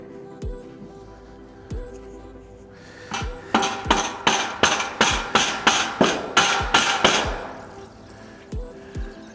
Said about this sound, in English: Rubber hammer on the end.